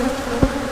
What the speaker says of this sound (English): I have a lot of bees shaking out, a lot of bees in the other one.